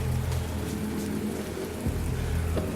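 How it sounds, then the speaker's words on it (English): Steady rain falls close by, a dense continuous patter with a few louder drops and low rumbling underneath, no talking. "A lot of rain around these parts."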